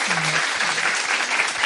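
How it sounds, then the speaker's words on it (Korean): Studio audience on a Korean talk show applauding two guests, a dense steady wash of clapping throughout with a voice briefly speaking over the start. "두 분께 박수 한번 좀 부탁드리겠습니다"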